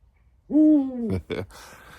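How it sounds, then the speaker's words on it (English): A European eagle owl hoots during courting season in the UK, a single deep, drawn-out call that swells and holds, then breaks off into a couple of rougher, shorter sounds, close and loud with no talking. "It's the courting season now for European eagle owls here in the UK."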